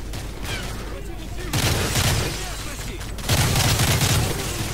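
Sustained bursts of rapid gunfire in Call of Duty: Modern Warfare 3, loud and dense, coming in two heavier waves with a constant rumble underneath.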